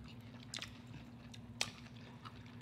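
Soft, close chewing and crunching of spicy Mexican Mango Chilada candy, with a few faint bites and squishy mouth sounds over low background hum, no talking.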